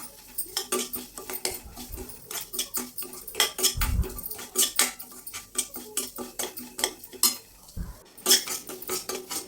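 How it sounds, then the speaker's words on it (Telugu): Dry semolina (suji rava) roasts in a pan as a spoon stirs it, making repeated close scraping strokes and clinks against the metal in an uneven rhythm, with no talking. "ఒక అరకప్పు సూజీ రవ్వ వేసుకుని ఎర్రగా వేయించుకుందామండి"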